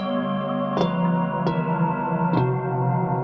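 Singing bowls processed with warping in Ableton Live produce a watery, melting drone, steady layered tones with three soft strikes smearing and wavering through the sound.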